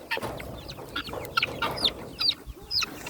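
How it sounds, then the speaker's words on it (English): Chickens clucking close by in a farmyard, a run of short, sharp clucks and squawks from several birds scattered through the stretch without talk. "Get out of there, chickens!"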